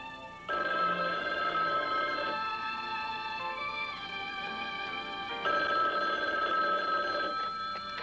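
An old telephone bell rings in two long bursts with a pause between them, loud and close, in a quiet room in a 1970s TV drama.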